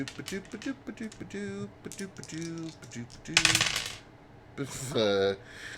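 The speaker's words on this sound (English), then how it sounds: "The sound of dice hitting is just not fun." Dice roll and clatter on a tabletop during a D&D 5e session, a rattling tumble of hard clicks with a couple of louder bursts, close by and under ongoing talk.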